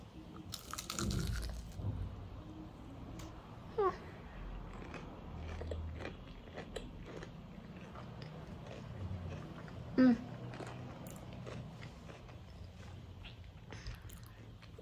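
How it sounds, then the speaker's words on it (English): Crunchy, hot homemade pakoras being bitten and chewed up close, with intermittent crisp crunches, a couple of louder bites standing out, and soft background noise between them. "Pakoras are ready, guys. I'm gonna do a taste test."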